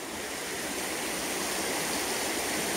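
A burn swollen with snowmelt from the hills, the Bannock Burn near Stirling, rushes and dribbles in a steady, full hiss of running water, close and continuous with no voices.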